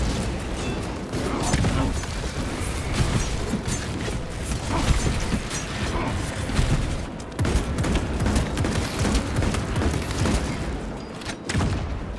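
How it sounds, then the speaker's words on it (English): A shrapnel grenade goes off amid dense combat in Warhammer 40K Space Marine 2, with bursts of gunfire, mechanical clanks and booms layered into a loud, continuous battle din. "Deploying shrapnel grenade."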